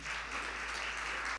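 Brief, moderately faint applause from a church congregation during a Catholic profession ceremony, a dense hiss of clapping lasting just over a second before cutting off.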